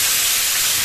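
Ripe tomatoes hitting a hot pan while a Bengali-style aubergine curry with river-caught pabda fish is cooked, giving a loud, steady broadband sizzle that fills the whole short moment without any talk.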